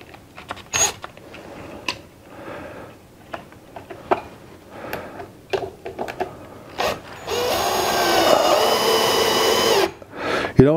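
A power drill drives a Phillips head screw into a plastic corner guard, giving a steady whirring run of about two seconds after scattered clicks and handling knocks.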